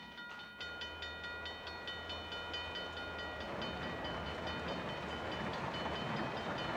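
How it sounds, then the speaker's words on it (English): A freight train hauling lumber, grain and coal rolls along a railway through the Gitwangah Reserve, a steady low rumble with rhythmic wheel clatter and a sustained horn-like tone, moderately close and alone. "Trains haul lumber, grain, and coal for export."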